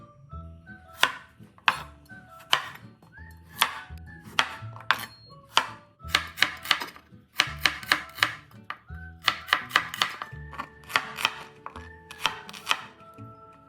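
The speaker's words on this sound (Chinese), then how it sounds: "100克小红葱切片。" Knife slicing 100 grams of shallots on a cutting board, a long run of crisp rapid chops in uneven bursts, close and clear with no talking.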